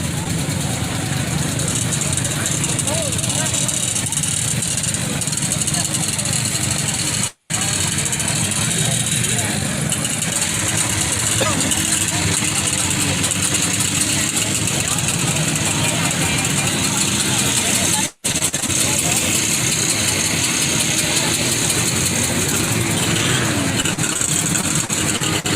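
A 1970 Play Cat vintage snowmobile idles steadily at a vintage snowmobile gathering, its low engine rumble running throughout under people talking, with two brief dropouts.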